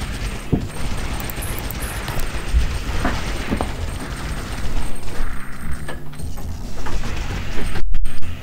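Game audio from the tower-defense shooter Alien Shooter TD, with a placed machine gunner unit firing amid continuous dense battle noise, rumbling booms and mechanical clatter, fairly loud throughout with no voice.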